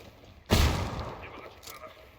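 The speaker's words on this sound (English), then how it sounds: "Lobbing a flashbang." Flashbang grenade going off in the Ghost Recon Wildlands video game: one sudden loud blast that decays into a rumbling tail over about a second and a half.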